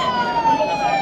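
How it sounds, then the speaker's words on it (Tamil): An ambulance siren wails at a campaign rally, a loud, close, steady tone that wavers slightly in pitch for the whole stretch, with crowd noise underneath. "கொஞ்சம் ஆம்புலன்ஸ் வழி விட்டுருங்க."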